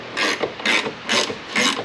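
A wrench ratchets out a differential bolt on an E36 car, four quick close bursts of rasping clicks with short pauses between them.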